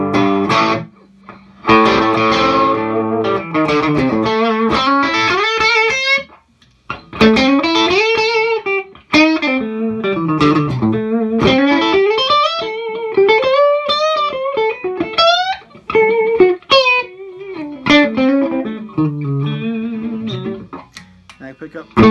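Distorted electric guitar through an overdriven Divided by 13 CCC EL84 tube amp, playing bending, gliding lead lines with brief pauses between phrases.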